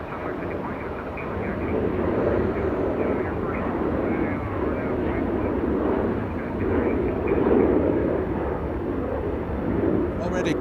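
A Philippine Airlines jet rolls for takeoff on runway 24 left at Los Angeles International Airport, its engines a loud, steady broadband roar that swells gently throughout, with a voice talking over it.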